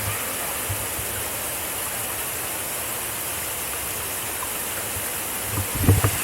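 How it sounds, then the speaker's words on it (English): Second waterfall on the Four Waterfalls Walk in the Brecon Beacons, Wales, a steady broadband roar of falling water close by, unbroken throughout with a brief rustle near the end. "Waterfall number 2."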